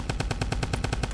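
Rapid gunfire from the video game Survive In Area 51 Remake, about a dozen evenly spaced loud shots in a steady automatic rhythm, with no talking over them.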